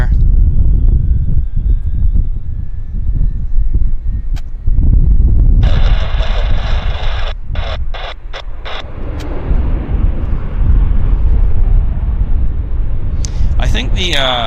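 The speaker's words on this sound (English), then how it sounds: "we do have an arrival for you. Q400." A Q400 turboprop arriving at Vancouver airport makes a loud rumble and engine roar that swells and shifts, with a person talking nearby.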